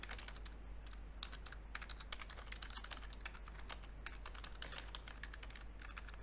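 Steady keyboard typing fills the stretch, a fast, close run of clicky keystrokes with no talk over it, as someone enters notes into a computer.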